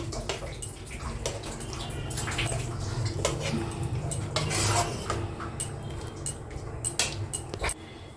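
Chicken curry with potatoes being served from a cooking pot into a dish, with utensil scrapes and clinks of cookware repeating steadily and up close, with no talking.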